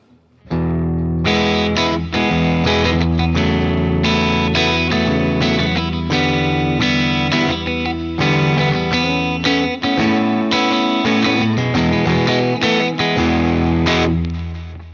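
Loud distorted electric guitar through the Mythic Drive digital overdrive on a Fender Tone Master Pro, playing a continuous riff of overdriven chords and notes, saturated and sustained for the whole stretch.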